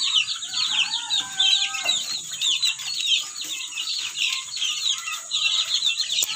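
A mother hen in a backyard clucks repeatedly in a steady, close run of short calls, with other chickens and faint bird chatter around her.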